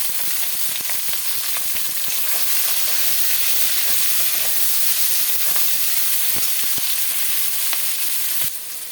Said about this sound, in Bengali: পটল আর পেঁপেটা দিয়ে দিলাম।